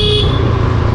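A steady vehicle horn blares continuously for about a second, loud and close, over a low engine rumble, while climbing a mountain road in the Andaman and Nicobar Islands.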